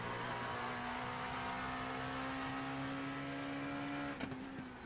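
A race car in iRacing at Sebring crosses the start-finish line, its engine a loud, steady high drone that holds for about four seconds before abruptly cutting and fading as it passes.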